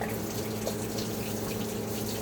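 Old coolant water from a car's cooling system pours out in a continuous, dense splashing gush, steady and close for the whole moment with no talk.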